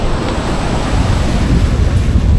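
Ocean waves wash onto a beach in Broome beside a lagoon, a steady, close, fairly loud roar of surf mixed with wind buffeting the microphone, with no voices.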